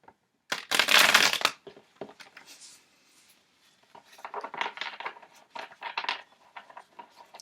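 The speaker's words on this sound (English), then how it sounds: "I will shuffle." A stack of tarot cards is shuffled with a loud riffling burst, followed by softer rustling and shuffling passes.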